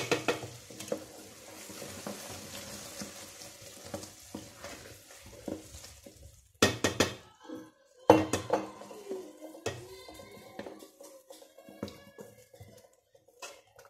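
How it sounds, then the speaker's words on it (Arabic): A spoon stirs a homemade honey syrup in a pot, with steady scraping and knocking against the metal, occasional clinks and a soft bubbling sizzle throughout, close up. "غادي نحرك كما كتشوفوا"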